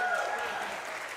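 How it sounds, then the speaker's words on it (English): A concert audience applauds the performers at a benefit show, a brief dense burst of clapping with a voice speaking over it. "Please give them a round of applause."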